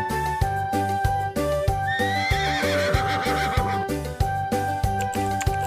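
A horse neighs loudly over clip-clopping hooves, set against a steady rhythmic musical backing on a farm animal educational track.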